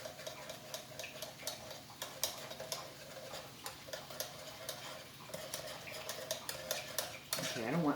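A spoon clinks and scrapes around a bowl as liquid is worked into peanut paste, a steady run of light taps and scrapes heard close up and quiet, with one louder clatter near the end.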